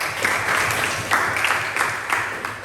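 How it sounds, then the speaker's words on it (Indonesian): A classroom group claps during an Indonesian teacher-training biotechnology lesson: a brief, even wash of many hands, loud and close, swelling in a few small surges. "berikan tepuk tangan dulu"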